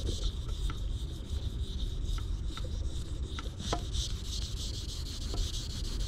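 A kitchen knife is sharpened on a natural whetstone, a steady rhythmic scraping and rasping of blade strokes on stone, close and fairly soft with a gritty texture.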